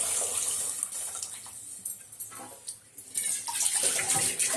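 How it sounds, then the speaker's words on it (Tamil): Dissolved tamarind water pours into a pot of rasam as a steady close splash and trickle, easing briefly midway before flowing strongly again, with no voices. "இப்போ கரைச்சி வச்ச புளியை ஊற்றிக்கலாம்"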